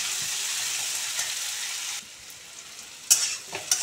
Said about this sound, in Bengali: বেশ কিছুক্ষণ ধরে নেড়ে ছেড়ে নিতে হবে